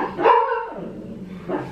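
A dog barks loudly and close by, two bursts of barking about a second apart, set against a quiet indoor room.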